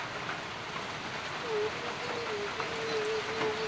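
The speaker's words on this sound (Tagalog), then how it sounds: "5 araw na po yung ulan po dito." Steady rain falls on a surface throughout, a dense even hiss at a middle distance with a faint tonal whine drifting through the second half; no one speaks.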